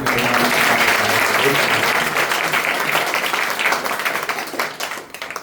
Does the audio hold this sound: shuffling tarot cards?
no